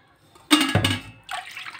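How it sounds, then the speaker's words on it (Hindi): Water is poured from a large bowl into a pan for cooking atta Maggi noodles, producing two short, loud, close splashing gushes separated by a brief pause, with no speech. "अब 2 बड़े बॉल से 2 बॉल पानी ले लेंगे"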